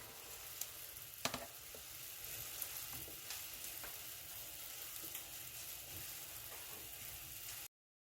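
Pork belly (samgyeopsal) frying with garlic in a pan, giving a steady close sizzle with occasional crackles and pops, no talking.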